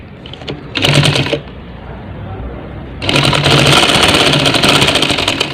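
A sewing machine stitches mosquito net fabric in two close, loud runs, a short burst followed by a longer steady whir, over a faint background of room noise.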